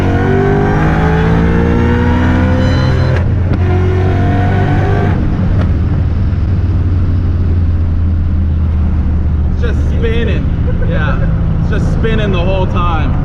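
Loud race car engine revving hard at close range as it launches with the tires spinning, the roar rising and breaking off in surges before settling into a rough idle.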